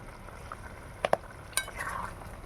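Salted chicken curry being slowly sautéed in a pan, with a soft, low sizzle under a few sharp spatula clinks and scrapes against the metal, all close by and without speech.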